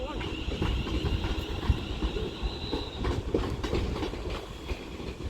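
A London Northwestern Railway unit, 35371, pulls out of Crewe station with rumbling wheels, clicking rail joints and a thin squeal, heard close on the platform, with people talking nearby.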